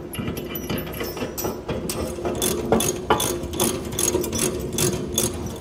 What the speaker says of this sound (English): So now I got those tightened down with my wrench